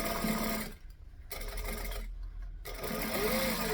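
A sewing machine top stitches a seam closed on a handmade item, running in steady bursts with two short pauses between, close and loud with no talking.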